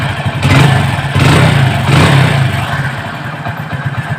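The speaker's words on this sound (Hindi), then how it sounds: "हमारा जो है बाइक प्रॉपर तरीके से बिल्कुल कंप्लीट हो गई और मैं आपको साउंड सुनाता हूँ।" A Hero Splendor motorcycle runs steadily right after a full engine rebuild, its mid-pitched engine note close and loud with a few mild rises in revs and some mechanical clatter.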